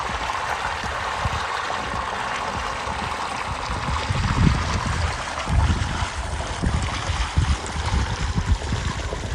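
Water running from a tank onto a field being planted with onions, garlic and grape vines, a close, steady rushing and gurgling flow that swells slightly midway.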